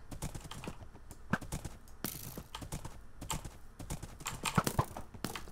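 Horse hooves clip-clop in a Minecraft-style UHC match, a close, brisk run of hoofbeats mixed with rapid keyboard clicking, with no talking.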